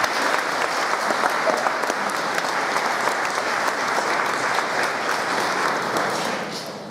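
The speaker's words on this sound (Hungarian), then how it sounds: "Ez egy nagy tapsot megér az iskola." A large crowd at a school recitation contest claps steadily and densely for several seconds, the applause holding even before tapering off slightly at the end.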